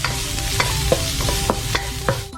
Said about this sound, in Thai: ผัดเครื่องเทศให้เหลืองหอมนะครับ